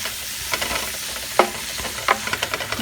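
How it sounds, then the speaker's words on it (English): Ingredients stirred in olive oil in a pan for sweet potato gnocchi: a soft continuous sizzle broken by sharp scraping clicks and taps of the utensil, several distinct strokes close up, with no voices. "And I'm going to stir that for just a few minutes"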